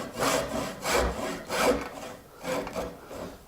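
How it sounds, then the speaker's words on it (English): A hand saw kerfs a mitered dovetail joint clamped in a vise, giving rhythmic back-and-forth rasping strokes, roughly five close, even passes, loud and alone. "pass my saw down until I reach the bottom of the rabbet"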